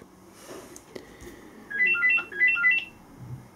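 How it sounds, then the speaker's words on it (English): A phone ringtone plays nearby in two short bursts of bright, warbling electronic tones over faint room noise, with no one speaking. "Someone's ringing the blooming phone."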